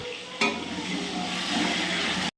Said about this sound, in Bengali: আলুগুলো যেগুলো কেটে রেখেছিলাম ওগুলো এখন ভেজে নিচ্ছি